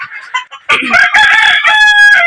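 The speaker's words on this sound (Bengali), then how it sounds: "আমার মুরগিগুলা খাচ্ছে" Hens and a rooster call out loudly while feeding on moringa leaves, with a clear crow rising over close, repeated clucks and squawks.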